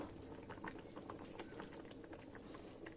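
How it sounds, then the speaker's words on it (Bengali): Milk sweetened with date palm jaggery boils in a pot for dudh puli, giving a steady close bubbling simmer with small pops and crackles throughout, no voices. "গুড়টা দিয়েই একটু ফুটে উঠলেই নামিয়ে নেব"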